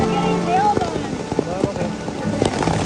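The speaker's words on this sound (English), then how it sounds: "I've never been in a hailstorm like this" Large hail pellets pelt down on umbrellas and bags in a heavy hailstorm, a dense, continuous clatter with sharp individual hits and faint voices in the background.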